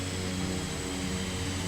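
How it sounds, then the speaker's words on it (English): An A-10 jet in Microsoft Flight Simulator gives a steady, loud, broad engine roar that fills the whole moment without a break. "There goes an A-10."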